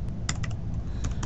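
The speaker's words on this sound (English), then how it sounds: "and type in the address" Keys on a computer keyboard clatter in a short burst of close, crisp clicks at an uneven typing rhythm over a low room hum.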